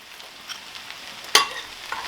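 Pineapple fried rice with green onion being stir-fried, a low sizzle under scattered soft stirring scrapes and one sharp clack of a utensil against the pan near the middle.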